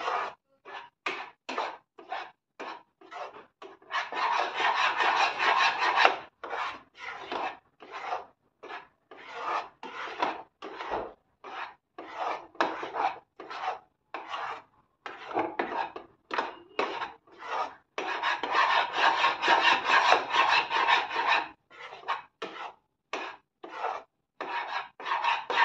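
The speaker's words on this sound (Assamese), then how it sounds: "মই এনেকৈ অলপ টাইম ভাজিম এতিয়া" A spatula scrapes and stirs food in a frying pan with a steady, rhythmic rasping, close and clear, coming in short strokes broken by longer runs of continuous scraping.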